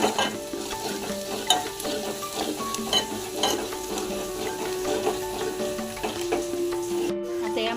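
Softened onion, crushed garlic and curry leaves sauté for a horse gram usal, giving a steady close sizzle with frequent scraping stir strokes of a spoon in the pan.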